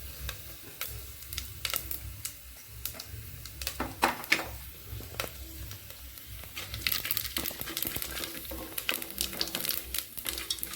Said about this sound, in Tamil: நல்லா பொரிஞ்சிருச்சுங்க